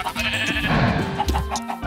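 Sheep bleat repeatedly in the Minecraft modpack Sevtech Ages, several wavering cries overlapping at close range with short gaps between them, and no talking.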